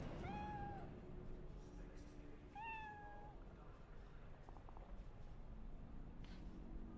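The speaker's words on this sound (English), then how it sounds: "Ooh, a kitty cat." A cat in the video game Cyberpunk 2077 gives two clear, drawn-out meows, fairly faint over a steady low background rumble.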